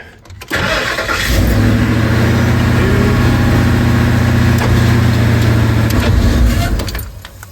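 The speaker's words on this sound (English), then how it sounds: "when I go to the other position, all the way to the other side, should get engine crank." A 2002 Ford E350 van engine cranks loudly and steadily for several seconds with a rhythmic whirring starter sound, then stops, recorded close up.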